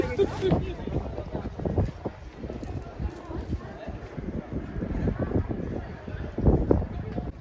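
Gusty wind buffets the microphone at a hilltop monastery viewpoint in Sintra, Portugal, a rough low rumble that swells and fades in bursts for several seconds, with a voice speaking briefly over it.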